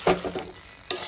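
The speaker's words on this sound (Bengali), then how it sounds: "ধনেপাতাটাও দিয়ে আমি ভালো করে কষাতে থাকবো।" Chicken with coriander leaves stirred and sautéed in a pan, giving a few soft scraping stirs with a steady low sizzle, then a sharp clatter near the end.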